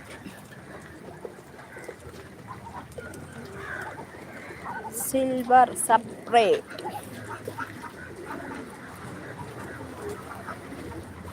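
A pigeon coos briefly in the middle of ongoing talk, with faint background noise throughout.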